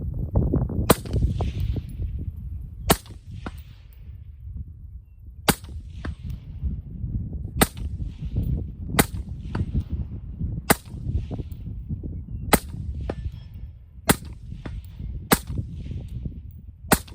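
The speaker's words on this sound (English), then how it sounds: "We're gonna try a few shots out here at 200 and then go back up close." Smith & Wesson M&P 15 Sport II AR rifle firing 55 grain ammunition at a 200-yard outdoor range in wind, about ten sharp single shots spaced a second or two apart over steady wind rumble.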